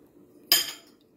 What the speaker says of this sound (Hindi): हम इसको किसी पिज़्ज़ा कटर या नाइफ जो भी हो आपके पास आप उससे इसका एक्स्ट्रा ये इस तरह से काट सकते हैं